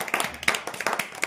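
Group of schoolchildren clapping together in a classroom, a short burst of quick, uneven claps close by with no talking.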